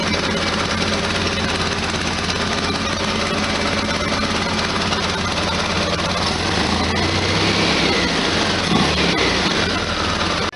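A 1973 VW Super Beetle air-cooled engine idles close by with a loud, steady, clattering chug after a gasket replacement, and no one speaks.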